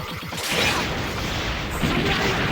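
Special attack bomb from the arcade shoot-'em-up Sengoku Blade 2, a loud, continuous blast of crashing explosions and whooshing effects that fills the whole clip without letup.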